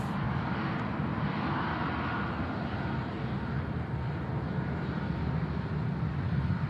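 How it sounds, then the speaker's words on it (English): Air France jet departing Manchester Airport, a steady broadband engine roar heard at a distance, continuous and unchanging throughout with no talk. "Right, Air France on the way out now."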